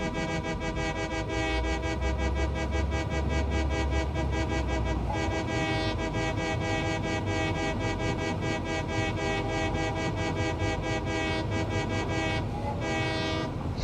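A train whistle sounds steadily throughout a video game scene involving pressure conversion cubes and plutonium fuel rods, loud and continuous with layered horn tones over a low rumble, with no voices.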